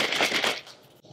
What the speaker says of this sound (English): shake it up